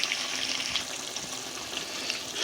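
Mutton for a Jamaican brown stew browning in a hot pot, with a steady broadband sizzle that has no breaks and a few soft scrapes as the meat is stirred continuously, close and fairly quiet.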